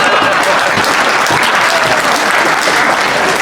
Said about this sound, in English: I knew that would get a clap.